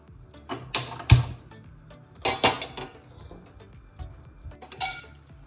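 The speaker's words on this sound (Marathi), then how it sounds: "आता आपण काय करतोय वेलची भाजून घेतो थोडीशी" Cardamom pods are dry roasted in a pan, giving sparse, sharp clinks and rattles of pods and a utensil against metal, close, with quiet gaps between bursts and no talk.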